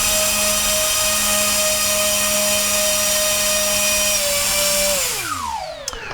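Electric motors of a 1.2 m Twin Otter model plane fitted with SAFE run loud and steady at high whine close by, then spool down sharply near the end, with no talk.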